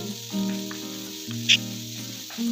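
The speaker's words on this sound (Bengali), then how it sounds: "এবার ভালো করে এটাকে আমি ভাজবো।" Egg tadka with torn green chillies frying in a pan, giving a steady close sizzle with a brief sharper crackle midway, over a sustained tonal background.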